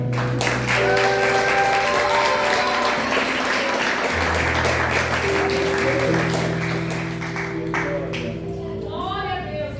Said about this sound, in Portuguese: Bata palmas para o Senhor.